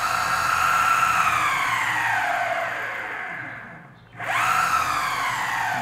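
A Verreal RS electric skateboard motor runs at speed 2 with a close, tonal whine that sinks and fades, nearly vanishes for a moment, then climbs sharply and holds steady again.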